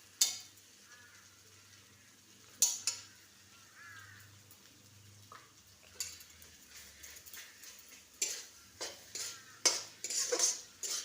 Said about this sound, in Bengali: একটু নাড়াচাড়া করে একটু ঘি দিয়ে দেব।